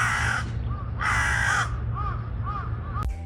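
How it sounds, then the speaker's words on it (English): A large crow caws loudly and repeatedly, harsh rasping calls in close succession over a steady low background hum. "I did see a really big crow, which I took lots of photos and videos of, including this video of it cawing."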